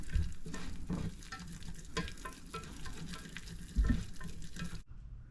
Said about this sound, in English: Whisk that flour in there. Just whisk it in